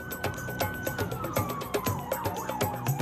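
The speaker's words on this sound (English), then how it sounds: "Police cars speed through the city." A police car siren wails through city streets, a loud, slowly falling tone under busy traffic and clattering street noise, with irregular knocks and bumps.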